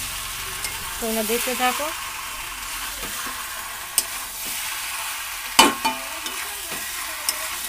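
Chicken pieces, rinsed in hot water, sauté in hot oil in a pan with salt added: a steady, close sizzle broken by stirring clicks and scrapes, with a voice briefly speaking early on.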